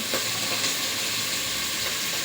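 Potatoes frying in hot oil, part of cooking shrimp pulao, hiss with a loud, continuous, close-up sizzle and no voices over it.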